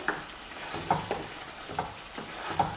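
Potatoes sizzle in a pan as they are stirred, a constant frying hiss broken by regular scraping strokes and light spoon taps roughly every second.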